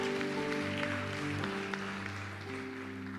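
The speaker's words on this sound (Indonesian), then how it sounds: "kasih tepuk tangan luar biasa" Church congregation applauding during a worship service, a steady wash of clapping blended with sustained keyboard or organ chords that keep playing underneath throughout.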